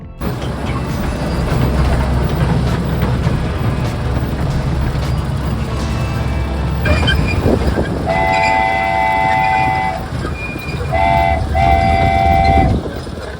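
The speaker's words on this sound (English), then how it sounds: "The ranch has a small train for kids and adults" A small ranch ride-on train at Flying W Ranch in Colorado rumbles along steadily, its horn tooting in several short, bright blasts toward the end over the continuous rolling clatter.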